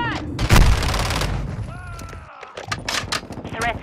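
Rapid gunfire bursts in a Call of Duty-style Hardpoint shooter match, loud and close, with intermittent shots throughout and voice chatter from in-game callouts mixed in.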